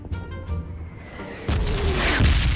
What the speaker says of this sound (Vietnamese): sao trận này Red vô nổ to vậy ta? Nổ rất là nhiều luôn nè.